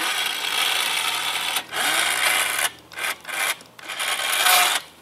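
A powered exoskeleton suit, the Model-2 on its first test, lowers its legs with a steady mechanical rasping whir in several bursts and short pauses, close by and fairly loud.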